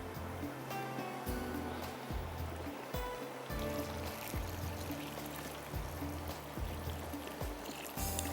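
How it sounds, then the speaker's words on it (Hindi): Water being poured into a cooking pot for masoor pulao, a continuous gurgling, splashing flow with low rhythmic sloshes, fairly faint and with no talk over it. "अब इसके अंदर मैं डाल देती हूँ पानी।"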